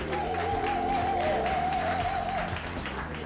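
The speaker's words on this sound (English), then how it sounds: "Give him a hand, you can clap." Clapping from an audience welcoming a guest, moderate and steady, mixed with a sustained musical tone and low background sound throughout.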